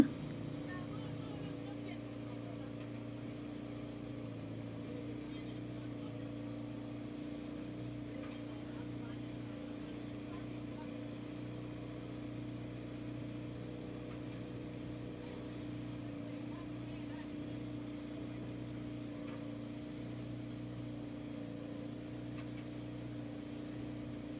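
Steady boat engine drone on a river crossing of the Mekong toward a temple in Vientiane, Laos, a low continuous hum throughout with quiet voices talking over it.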